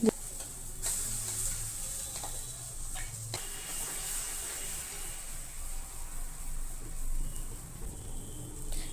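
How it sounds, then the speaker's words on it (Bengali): Ground borboti (yardlong bean) paste hits hot oil in a pan after earlier frying, giving a steady, close, broad sizzle with a few soft clinks and no talking. "এবার আমি এটাতে অ্যাড করছি আমার বেটে রাখা বটবটিটাকে"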